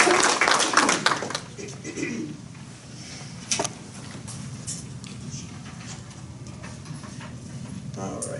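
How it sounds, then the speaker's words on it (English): A short burst of applause for veterans at a city council meeting quickly dies away into a quiet room with faint murmuring and occasional taps. "Another round of applause, please, for our veterans"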